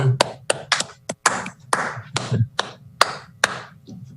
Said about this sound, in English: Just get a little round of applause for all those efforts.